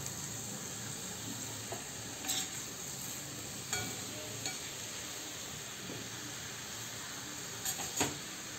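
Mixed vegetables sautéed in spice masala in a pan for a Goan-style veg dish: a quiet, steady sizzle with a few brief clinks and stirring scrapes scattered through.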